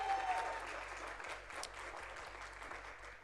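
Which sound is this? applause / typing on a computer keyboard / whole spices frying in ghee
applause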